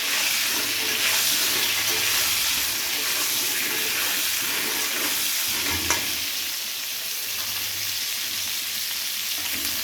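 Salted pointed gourd (potol) fries in oil for a potato-potol korma, giving a steady, close, continuous sizzle with faint stirring and occasional small knocks.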